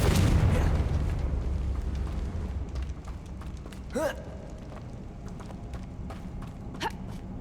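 A Confringo explosion spell goes off in Hogwarts Legacy with a loud, deep rumbling blast at the start that fades into a low roar, followed by a couple of brief swooshing magical effects.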